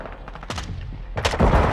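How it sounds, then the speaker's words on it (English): Rapid bursts of automatic gunfire in Call of Duty: Modern Warfare II, played in Control mode, with two sharp volleys close by that build into a dense, loud stretch at the end. "They're shooting at me."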